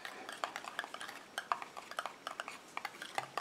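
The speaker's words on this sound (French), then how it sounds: "Et je mélange." A utensil stirs homemade body cream in a bowl after a preservative is added, making faint, rapid clinks and scrapes in an irregular rhythm, close up and alone.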